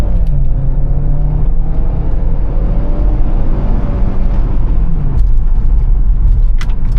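Car driving down a dealer auction test track under acceleration to test the transmission, a loud steady engine drone with rising pitch as it shifts, plus road rumble and faint clicks, no talk.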